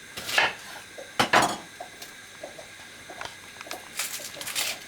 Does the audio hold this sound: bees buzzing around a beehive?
no